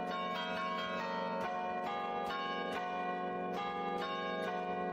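Church bells ringing with repeated overlapping strikes, rich sustained tones layering into a continuous chime, fairly loud and close.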